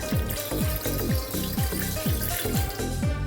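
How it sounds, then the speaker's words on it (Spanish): Water runs steadily from a tap into an Instant Pot, filling it up to just below the rack, a continuous close splashing trickle with a rhythmic gurgle and no voices. "lo que voy a hacer es que voy a ponerle agua hasta antes de la rejilla"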